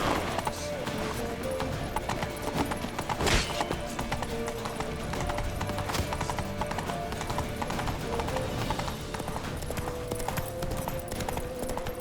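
Horse hooves galloping in The Witcher 3 on PC, a steady fast clip-clop rhythm running throughout, loud and close, with game sounds, an occasional whinny and shouted voices over it.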